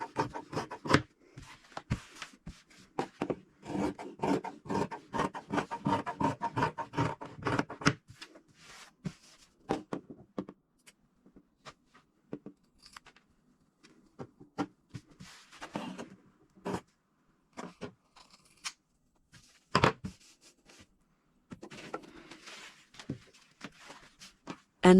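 Scissors cutting through fabric while trimming excess from a sewn shopper bag, a quick run of rhythmic snips and rustles up close, then sparser scattered cuts and handling sounds, no talking.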